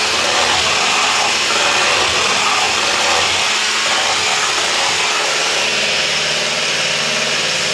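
A steady, loud electric hand mixer whirs continuously with a droning hum, mixing batter without pause.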